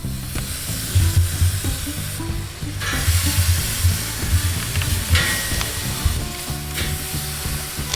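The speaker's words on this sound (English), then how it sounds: "We're gonna grill these for 2 to 3 minutes per side, but listen to that sizzle" Steady crackling sizzle of pineapple skewers on a hot grill, continuous and close, with no one speaking.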